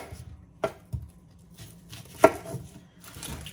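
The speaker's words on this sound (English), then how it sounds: "cut the ends off of your onions." A knife cutting the ends off onions on a cutting board, a few sharp, close chops spaced irregularly over a few seconds in a quiet kitchen.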